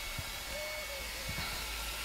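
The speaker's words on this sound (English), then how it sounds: "I'm going in with the hair dryer." A steady, loud hair dryer blowing with a constant broadband whoosh, running without pause throughout.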